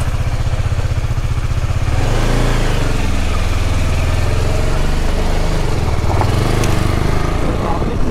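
Motorcycle engine running steadily throughout on a breakfast ride toward Lonavala, a loud, continuous low rumble with shifting tone and wind noise, with no break.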